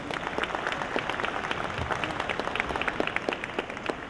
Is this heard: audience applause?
yes